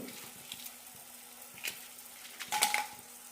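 Eight red chillies sautéing in a pan for a drumstick-leaf idli podi, a soft steady sizzle with a few stirring scrapes and a light clink near the end.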